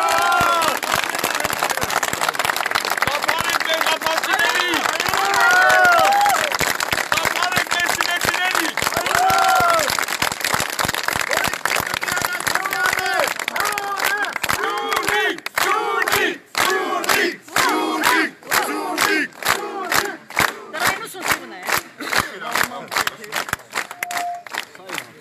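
A crowd of protesting Kajaran residents applauds and cheers outdoors, loud mixed voices and clapping at first, then breaking into rhythmic unison clapping that grows sharper and more spaced toward the end.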